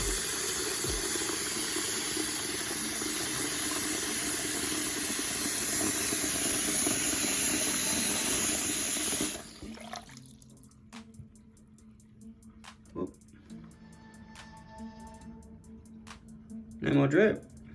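Water gushes steadily from a repaired washer tap turned up full, a loud continuous hiss that cuts off abruptly midway, leaving faint drips and small knocks in a quiet room.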